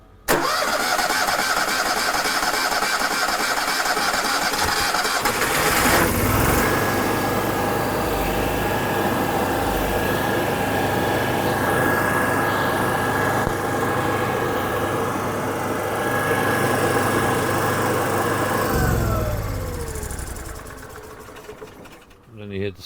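A steady engine drone from an Onan generator on a Luxe 42 MD runs loud and close throughout. A high whine holds through the middle section before the engine winds down near the end.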